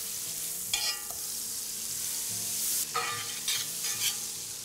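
Butter sizzles in a hot skillet while Dutch baby batter is readied, a dense continuous hiss with a few sharp scraping bursts, close and unaccompanied by talk.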